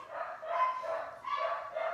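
Dogs in a home that fosters animals bark and yip in two short bursts, fairly close and moderately loud, with no talking over them.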